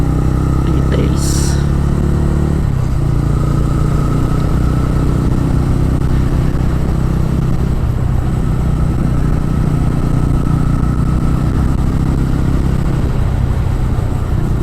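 A motorcycle carrying two riders climbs a hairpin mountain road to Kolli Hills, its engine holding a steady loud drone under constant wind rush, with a brief higher rattle near the start.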